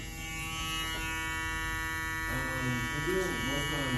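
A TPOB Goblin electric hair clipper, straight out of the box, buzzes with a steady tonal hum as it scrapes through hair around an edge-up area, with a voice talking over it partway through.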